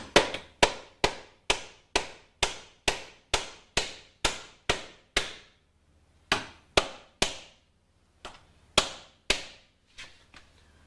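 A tool taps sharply on a drilled lock in a locksmith's bypass job, about fourteen crisp, evenly spaced close knocks, then a pause and a few more scattered taps that fade out.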